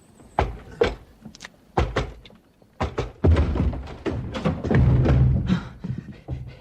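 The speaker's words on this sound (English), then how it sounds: "Locked! Break it down." A locked door is broken down in a radio drama: several heavy thuds and knocks build into a louder crash and splintering clatter near the end, close and sharp.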